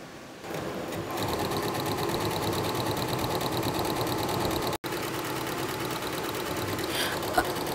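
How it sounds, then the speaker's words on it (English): Mixed coiling embroidery machine running at about 550 speed sewing a zigzag stitch to fix cords, a steady rapid mechanical chatter with even rhythm, close and continuous, with one brief dropout midway. "You can see now the speed is around 550 and make zigzag stitch for fixed cords."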